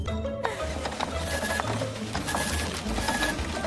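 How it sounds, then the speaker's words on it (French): A printer runs continuously with busy mechanical whirring, clicking and rhythmic feed noise. It stays close and fairly loud for the whole stretch, with no voices. "Oh non, ça continue d'imprimer."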